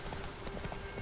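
Hooves of Roach the horse in The Witcher 3, a brief rush of quick galloping thuds, close and even, over game background noise.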